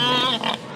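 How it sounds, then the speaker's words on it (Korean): A breeding sow in a metal crate on a pig farm in Gyeongbuk, South Korea, lets out one loud, close, shrill squeal that wavers in pitch and then fades. "꽥꽥거리는 돼지 소리와 함께 분뇨 악취가 코를 찌릅니다"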